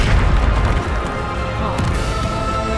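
A Bombarda blasting spell explodes in the Hogwarts Legacy game, a loud booming blast that starts at once and rumbles on with crackling debris throughout.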